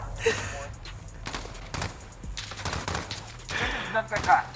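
AK47 rifle fire in a shooter video game, with scattered bursts and single shots cracking over background game noise while someone talks intermittently.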